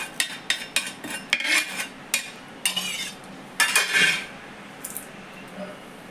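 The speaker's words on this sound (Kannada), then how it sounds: "ಯಾವುದೇ ಥರ ಮಿಕ್ಸಿಯನ್ನು ಬಳಸದೆ ಮಾಡ್ತಾರಲ್ಲ, ಆ ಕಾಲಕ್ಕೆ ಹೋಗಿ ನಾನು ಸ್ವಲ್ಪ ಪೌಡ್ರ್ ಮಾಡ್ಕೊತೀನಿ" Roasted cumin and fenugreek are pounded by hand into powder without a mixer, a close series of sharp metallic knocks and scraping grinds in irregular bursts, with a brief pause and no voices.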